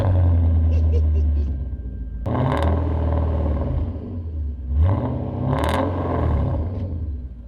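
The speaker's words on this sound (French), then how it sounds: "parce que là on démarre le moteur" Audi S6 Plus Avant engine starting cold, a crank and catch followed by a low rumbling idle and a couple of sharp revs, close and loud, with people talking over it.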